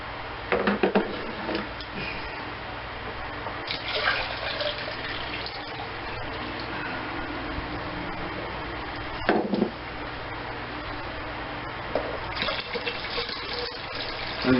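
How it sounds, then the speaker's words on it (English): Water pours steadily from a pitcher for several seconds, a continuous splashing gush into a funnel with a fine mesh, with brief louder surges near the start and end. "we'll try adding 600 of water"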